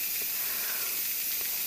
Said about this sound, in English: once the steam starts coming out in a steady stream, you push start again and it'll start the canning time